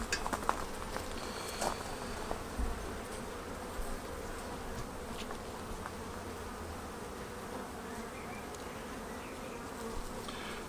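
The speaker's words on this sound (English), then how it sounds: "let's see how the bees are doing." Honey bees hum and buzz steadily around a hive, a dense continuous drone with occasional light taps and clicks.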